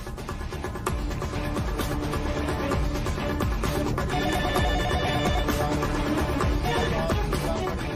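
Telephone ringing in a Hindi TV drama scene, a repeated electronic ringtone pattern that keeps going throughout, fairly loud and alone without talk.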